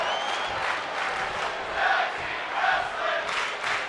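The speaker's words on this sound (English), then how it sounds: "The fans on their feet here, cheering for tag team wrestling" Video game crowd in WWE 2K25 cheering at a tag team wrestling match, a dense roaring arena crowd with swelling shouts and cheers that rise and fall over a few seconds.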